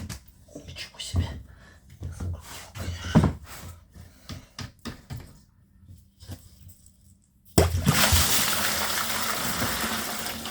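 Water from a rough plumbing pipe pours into a bucket during an inspection in Berkeley, California, bursting in as a loud, steady gush after a stretch of talking and handling noises.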